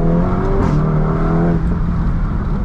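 From inside the cabin, a 400hp VW Golf R accelerates hard with full traction, its engine note a loud, steady drone that rises in pitch, with no talk over it.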